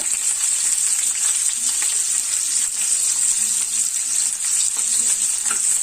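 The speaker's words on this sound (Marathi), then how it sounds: "असं थोडं आलं आणि लसूण थोडं हलकं भाजून झालं की मग त्याच्यात मी हा एक उभा चिरलेला कांदा घालते." Sliced onion with ginger and garlic frying in hot oil, a loud continuous close sizzle with crackling texture, steady for the whole stretch and no talking.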